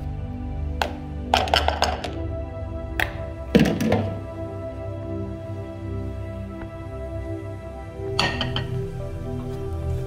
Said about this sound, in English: Add the sauerkraut to a pan